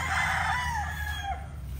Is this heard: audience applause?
no